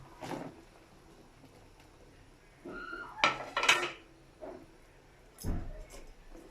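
Chayote pieces going into a pan with pork and sotanghon noodles, giving a few clattering metal scrapes and clinks of utensil on pan, with a brief louder sizzle burst near the start and a soft knock near the end.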